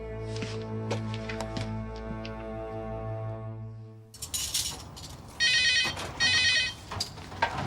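A telephone rings in a plumbing business office, a few repeated electronic trills arriving in bursts over a busy background, loud and close.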